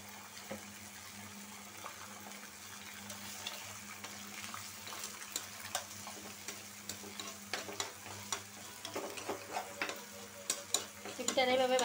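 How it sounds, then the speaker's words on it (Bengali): Egg frying with snake gourd in the gourd's own released oil, a steady low sizzle with scraping stir strokes and clicks that grow busier and louder toward the end. "ডিমটা আমার ভাজা হয়ে যাইতেছে।"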